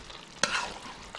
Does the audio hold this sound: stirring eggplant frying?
yes